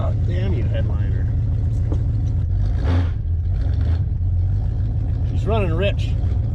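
A 1970 Ford Torino GT engine runs rich on a test drive, a loud, steady low drone heard from inside the car while people talk over it.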